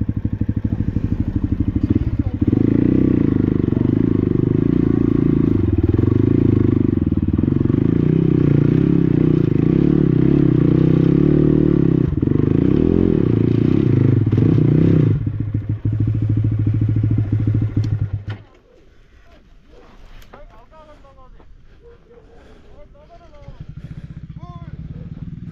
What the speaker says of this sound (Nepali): म बाइकै लान्छु माथि